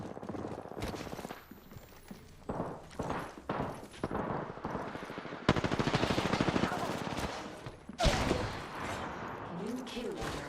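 Rapid bursts of gunfire from a battle-royale style video game, loud volleys and automatic strings repeating through the clip with game effects and a voice talking in between.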